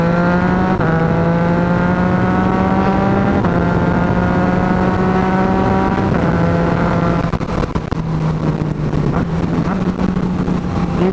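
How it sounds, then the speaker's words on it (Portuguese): Motorcycle with an up-only quick shifter, fitted with a remap, pulling hard and upshifting quickly, each clutchless gear change giving a sharp drop in engine pitch before the revs climb again, loud and steady without talk. "Com o quick shifter, eu troco assim"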